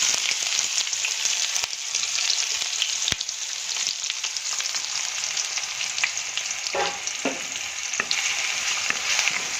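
Finely chopped onion sautés in oil in a pan over medium heat, a steady bright sizzle throughout with a few soft stirring scrapes near the end, close and continuous with no talking.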